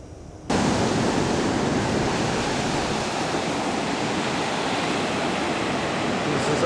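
Ocean waves and surf roll in at a Maui beach, a loud, steady wash of noise that starts abruptly and continues without a break.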